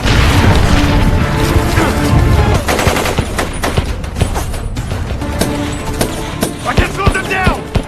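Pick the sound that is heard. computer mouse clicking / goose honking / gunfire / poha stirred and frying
gunfire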